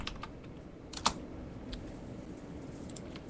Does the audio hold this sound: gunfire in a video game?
no